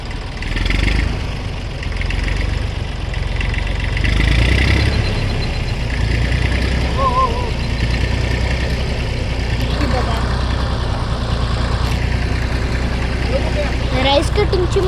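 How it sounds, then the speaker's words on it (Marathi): A rice cutting machine's engine runs steadily nearby, a continuous low mechanical drone like idling that holds for the whole stretch, with faint voices in the background. "He rice कटिंगची machine."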